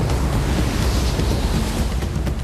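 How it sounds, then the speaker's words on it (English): Heavy winter seas crash over a pier in a dense, continuous roar of surf, loud and close, with wind buffeting the microphone throughout and no voices. "footage from last winter shows the pier engulfed by waves"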